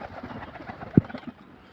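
Pigeons kept by a fancier give soft, low cooing in a quiet setting, with one brief sharper call standing out near the middle.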